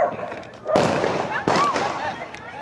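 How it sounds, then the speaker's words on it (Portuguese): Gunshots ring out at a football field in Manaus during a shooting, two sharp loud cracks about a second apart, followed by ongoing noise and people talking and shouting nearby. "É muito tiro aqui, galera."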